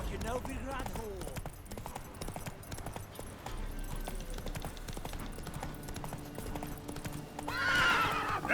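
Roach the horse gallops in The Witcher 3 with steady, rapid hoofbeats throughout and a whinny near the end, while a person talks over the action.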